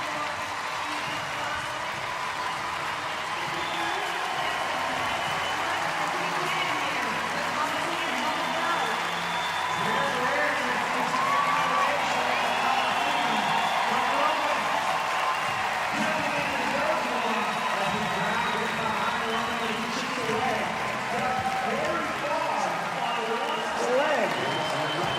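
A large arena crowd roars and cheers for Roman Khennikov on the final day of the 2023 CrossFit Games, during the men's Test 11 heat. The steady, dense crowd noise continues throughout, with a commentator talking over it.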